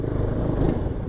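Motorcycle engine running steadily close by, a continuous low mechanical rumble with slight clatter, no voices over it; the bike is due for servicing and showing a fault.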